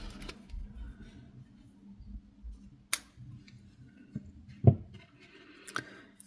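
Scissors snipping through yarn stitches while making Christmas Santa and elf outfits for a Labubu doll, a few sharp close clicks spread among quiet handling sounds.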